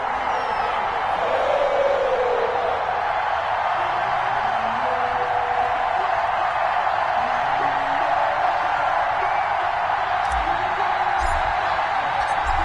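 Steady, loud roar of an NFL stadium crowd at a Pittsburgh Steelers versus Cincinnati Bengals game, a continuous wash of cheering voices that holds throughout with no breaks.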